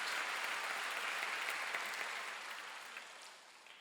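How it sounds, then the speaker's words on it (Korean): A church congregation claps during a Wednesday worship service. The applause is faint and distant, a steady patter of many hands that thins and fades toward the end. "빨리 박수를 하세요"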